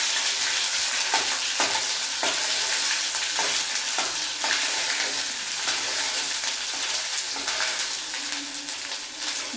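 Onions frying in a pan with ginger garlic paste, a steady loud sizzle with occasional stirring scrapes throughout, no talking.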